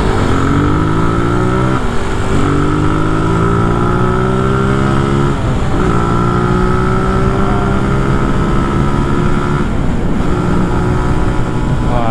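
The engine of an older Zontes ZT155U 150cc motorcycle hums steadily while riding, loud and close, with several rising gear-change sweeps as the rider shifts through the gears.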